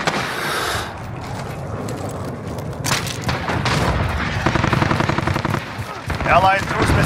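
Turret fire in Call of Duty: Modern Warfare, a loud sustained burst of rapid automatic shots with booming impacts, layered over continuous battle noise and a voice speaking.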